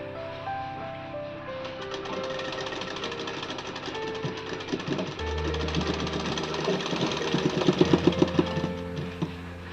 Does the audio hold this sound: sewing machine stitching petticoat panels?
yes